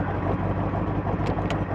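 A manual-transmission car engine idles steadily as the car rolls to a stop, a continuous low rumble with a faint higher whine.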